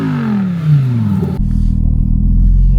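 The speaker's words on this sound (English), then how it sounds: "shall we have a spot of drifting?" A car engine revving hard, with a falling whine before a sudden switch to a loud, rough, sustained roar and rumble up close, suggesting a drifting run at a Lamborghini collection.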